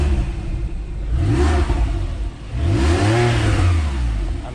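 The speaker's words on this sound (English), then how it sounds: "Just give it a little rev so you can hear." A Porsche 911 Carrera S 997 with a flat-six engine and PDK gearbox revs twice in quick succession, each blip climbing and falling in pitch, loud and close with steady idle between.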